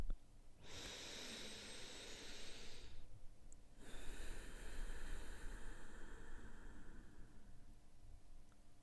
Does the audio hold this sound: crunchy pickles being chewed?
no